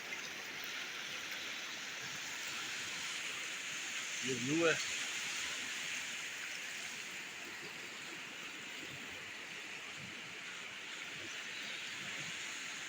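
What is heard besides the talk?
rushing water crashing with force near Babusar route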